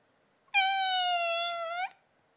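A single clear, drawn-out cat meow from a children's story, rising cleanly out of silence and holding steady for over a second before cutting off.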